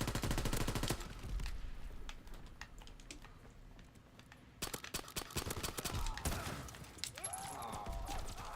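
Shotguns fire in a first-person shooter video game: loud, sharp blasts open the clip, then a quieter stretch, then more rapid bursts and clattering impacts.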